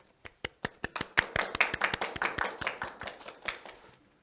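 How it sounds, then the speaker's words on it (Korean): A small lecture audience claps to welcome a visiting professor to a Saturday science talk, starting as a few sharp separate claps, then thickening into a short burst of applause that thins out again, fairly quiet and with no talk. "그럼 큰 박수로 모셔보도록 하겠습니다"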